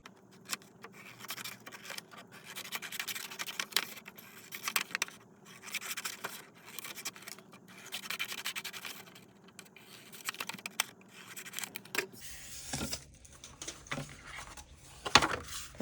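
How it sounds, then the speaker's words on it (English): Scissors cutting paper along drawn lines, sped up, giving a fast, dense stream of faint snipping and rustling clicks that runs throughout, with a brief change in background near the end. "now we're gonna cut around our drawn lines"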